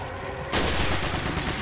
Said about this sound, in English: Perfect place to bring up the rifle.